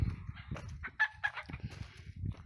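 Backyard homestead chickens clucking and squawking in a loose, busy cluster of calls, close and fairly loud, with brief overlapping cries and no talking.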